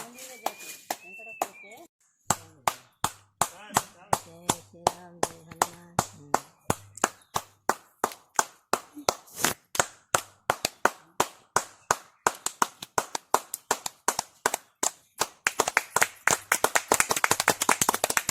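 Sharp hand claps ring out beside a pond known for bubbling water, first in a steady run of single claps, then faster and denser toward the end, with outdoor voices briefly heard at the start.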